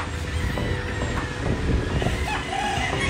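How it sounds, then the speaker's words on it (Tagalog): Chickens in rural Bulacan give faint clucks and a distant crow, mostly buried under steady, heavy wind rumble across the whole stretch. "talagang puro manok lang yung maririnig nyo, mga tilawak lang ng manok"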